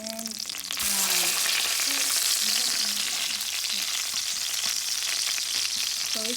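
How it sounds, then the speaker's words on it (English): Salmon frying in a pan: after a brief quieter start, a loud, bright, continuous sizzle takes over and holds steady up close, with faint background voices heard softly beneath it. "Now our salmon is ready to turn brown."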